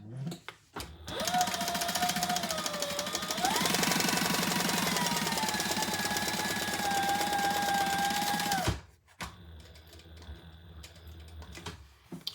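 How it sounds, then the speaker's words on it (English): Sewing machine stitching across the bottom of a crossbody bag, a steady fast mechanical whir and rattle running for about eight seconds before stopping, with quiet handling after. "I'm going to sew across the bottom first."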